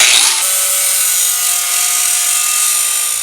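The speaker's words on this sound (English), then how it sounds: "I'm gonna use a grinder with a cutting wheel" Angle grinder with a cutting wheel slicing through a metal transducer mount, a loud, close, sustained high-pitched whine and grinding screech that holds steady throughout with no speech.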